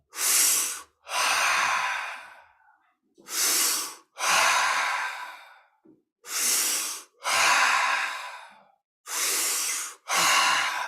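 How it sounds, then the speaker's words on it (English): Forceful, fast rhythmic breathing exercise: loud paired inhales and exhales repeat in steady cycles, each burst a rushing breath close to the mic with brief pauses between, and no talking. "prepare to add speed, velocity to your breathing cycle."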